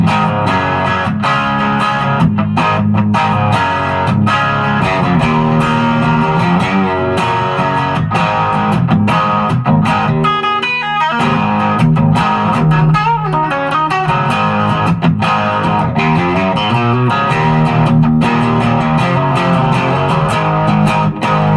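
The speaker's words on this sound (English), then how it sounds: "I'm going to switch on a Timmy set to a light overdrive." Electric guitar, a Fender Traditional Late 60's Jaguar through a Timmy pedal set to light overdrive, with a light crunch; strummed chords ring steadily with a touch of reverb, played alone at a fairly loud, even level.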